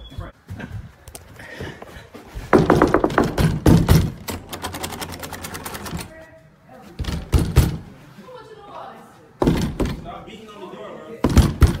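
Someone bangs hard on a closed bathroom door in repeated bursts of heavy thumps and rattling knocks, with voices talking and shouting in between.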